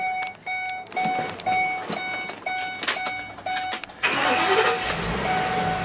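A U-Haul 20-foot box truck's engine cranks with a repeating chime sounding, then catches and settles into a loud, steady idle, close by with no talk.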